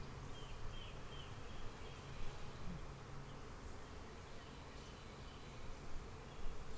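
Honeybees buzzing steadily and fairly close during a Flow Hive inspection, a dense continuous hum with no talk over it.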